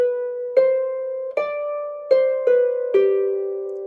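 A harp plays six clear plucked notes, climbing up from B and then stepping back down before settling on a final G. Each string rings on after it is struck, heard alone, close and fairly loud.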